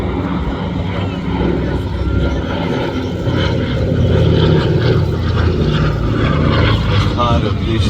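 A Douglas DC-3 in its US Navy R4D form, powered by Pratt & Whitney radial engines, flies past at an air festival display, a loud continuous propeller drone with outdoor crowd noise.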